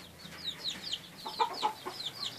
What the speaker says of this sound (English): here's our chicken, and he can't get out as much as he wants to